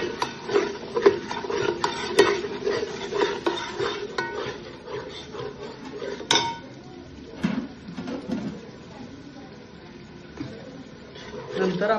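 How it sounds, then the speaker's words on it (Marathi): Chilli, onion and tomato roasting in oil in a pan for a Maharashtrian dish, heard as steady stirring and scraping with sharp utensil clicks against the pan over a faint background hiss, close up, with no talking. "हे सगळं तेलामध्ये कांदा आणि टोमॅटो बरोबर आपण भाजून घेतो."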